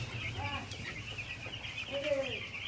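Broiler chickens raised on a littered floor inside a poultry house cluck in short bursts, a few close calls rising over a quiet, steady background hum.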